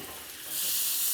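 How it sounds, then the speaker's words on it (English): Butter sizzling in a hot pan next to a resting filet mignon, a soft hiss that swells sharply louder halfway through and holds as a bright, steady frying crackle. "Now that the steak is resting there, I'm gonna come in with a generous amount of butter."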